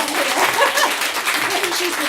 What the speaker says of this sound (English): Please, round of applause for my mother